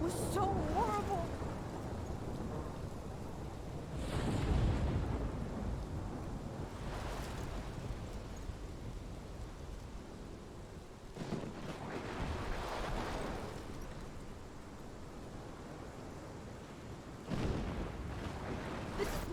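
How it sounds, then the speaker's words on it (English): Stormy wind and rumbling weather in the video game Life is Strange, a broad continuous roar with swelling gusts and low thunder-like surges around the middle and end, with speech mixed in. "This is my storm."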